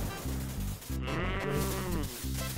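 A synthesized cow moo from the arcade game Toobin' rises over looping chiptune music, one drawn-out lowing call in the middle of steady game sounds.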